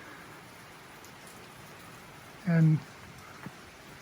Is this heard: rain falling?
yes